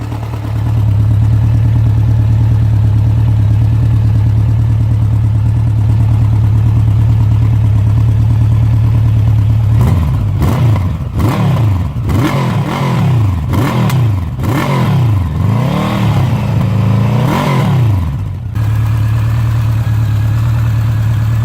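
Honda CB1100 motorcycle idling with a steady low throb, then a series of sharp throttle blips rising and falling in quick succession before settling back to idle, loud and close.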